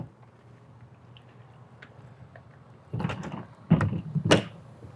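The ramp door of a 2024 Forest River Cherokee 18RR Grey Wolf toy hauler lowers with a few clunks and a rattling scrape near the end, over a low background hum.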